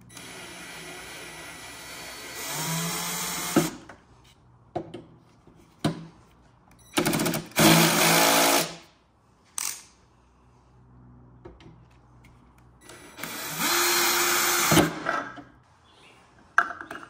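A power screwdriver whirs in several short bursts, taking flathead screws out of a gear mechanism cover, with quiet handling clicks and knocks between runs.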